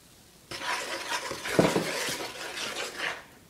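Flour being stirred into a pale, foamy madeleine batter in a bowl, a steady close scraping and swishing of a utensil against the bowl that runs for about three seconds with no talking.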